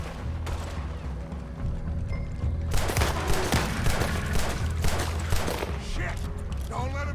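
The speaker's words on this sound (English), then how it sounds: "Put every bullet you got in him!" Rapid volleys of gunfire in Red Dead Redemption 2 erupt after a quieter stretch, with many shots cracking close together and voices shouting between the bursts.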